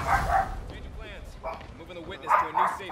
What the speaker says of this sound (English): Why are you barking, Bella?